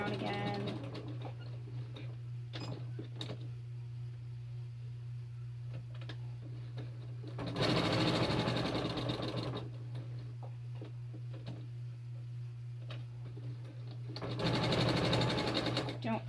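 Sewing machine stitching a pin cushion in a sewing class, running in two loud, steady bursts of a few seconds each, with quieter pauses and a low constant hum between them, while a voice talks throughout.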